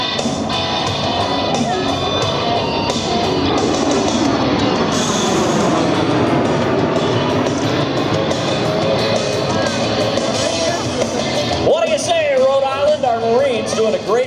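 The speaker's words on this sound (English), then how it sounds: "The MV-22 Osprey from the right on the high-speed pass." An MV-22 Osprey tiltrotor makes a high-speed pass at an air show, a loud, sustained roaring rush that swells and fades over more than ten seconds, with an announcer's voice over it.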